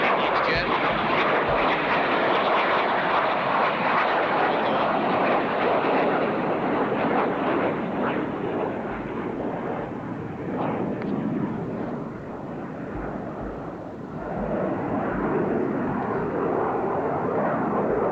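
Twin-engine Defiant airplane at an airfield, a continuous loud engine drone that holds steady and dips slightly near the end, with voices faintly underneath.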